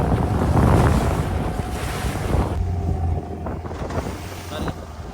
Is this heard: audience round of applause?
no